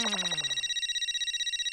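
A telephone ringtone trills in a quick repeated electronic pattern, close and clear, with a descending tone at the start and then a steady pulsing ring in a home setting.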